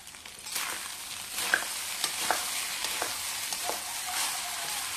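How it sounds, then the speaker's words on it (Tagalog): Fried rice stir-fried in a pan: a steady sizzle broken by sharp scraping and clacking strokes of a spatula, close and fairly loud, with no talking. "Ganito lang ako magluto ng fried egg guys. Ay, fried rice, sorry."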